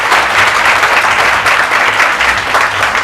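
Loud, sustained applause from an audience clapping together for a student who has earned a final medical clearance, steady and dense throughout with no pauses.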